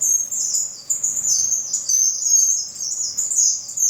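Young finches from Venezuela, just molting into adult plumage, chirp in an aviary with rapid, high, continuous twittering calls overlapping one another, fairly close and alone.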